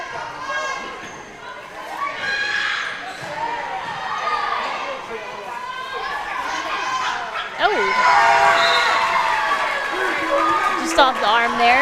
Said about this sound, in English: And the crowd getting going